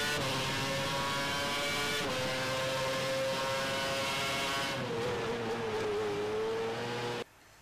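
A Formula 1 race car engine in the F1 2011 video game on the new India circuit, a loud continuous high-pitched whine with steady harmonics that shift as the revs change, then cut off abruptly near the end.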